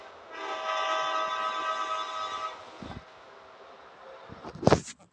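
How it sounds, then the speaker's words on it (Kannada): A train engine rumbles past with a long, loud horn blast sustained for a couple of seconds, then fades, followed near the end by a brief sharp burst; no talking. "ಗಾಡಿ ನೋಡ್ರಿ ಇದು ಮತ್ತೆ ಇಂಜಿನು"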